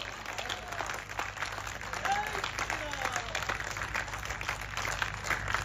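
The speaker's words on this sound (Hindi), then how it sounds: "तालियां कम रह गई, उम्मीद ज्यादा की पाल बैठा हूं आप" Moderate, steady applause from an audience at a Hindi poetry recital fills the whole stretch, with faint voices mixed underneath.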